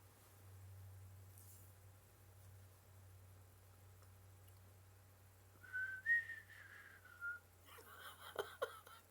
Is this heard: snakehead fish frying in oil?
no